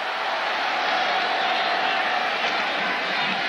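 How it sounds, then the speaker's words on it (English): A big football stadium crowd roars in a broad, sustained wall of cheering after a first down in a 1993 Alabama vs South Carolina college game, holding loud and steady throughout with no pause. "And listen to the crowd"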